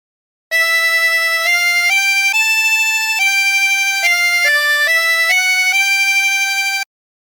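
A chromatic harmonica plays a phrase of the hymn Abide with Me, about a dozen clear sustained reedy notes stepping up and down in a slow melody, close and alone with no talk.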